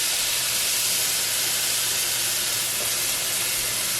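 Tomatoes dropped into a pan of cooked garlic give a steady, loud broadband sizzle and hiss that holds evenly throughout, with no talking.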